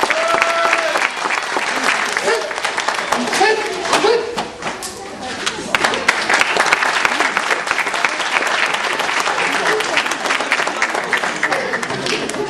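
A festival crowd in Comines, Belgium applauds after a ninjutsu katana demonstration: thick, sustained clapping with a few sharp individual claps, mixed with crowd chatter and voices.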